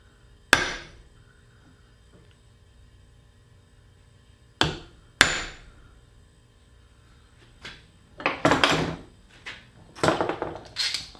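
A hammer tapping a punch to make a small center mark on a workpiece: three sharp isolated knocks spaced apart, followed by a cluster of quicker, rougher taps and clatter, close by.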